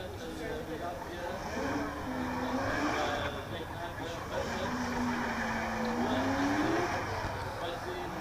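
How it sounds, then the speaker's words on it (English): A V8 BMW E36 drift car warms its tyres in an arena at a drift championship in Oman, its engine rising and falling in revs under a commentator's talk and crowd noise, moderately loud. "Bertans pulls into the arena to warm the tyres on the V8 BMW E36."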